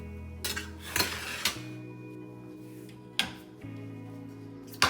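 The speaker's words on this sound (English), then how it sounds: "then just scrape the scrambled eggs, just like that" Metal utensil scraping scrambled eggs out of a frying pan onto a plate, with a few sharp clinks and scrapes at intervals over a low steady hum, close and fairly quiet.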